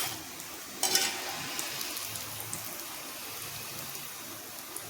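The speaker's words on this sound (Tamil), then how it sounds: "ஒரு சைடு வெந்துட்டு இன்னொரு சைடு திருப்பி விட்டுருக்கேன், வேகட்டும்." A vegetable cutlet fries in a pan over a medium flame. A steady, close sizzle continues throughout, with a brief scrape or stir near the start.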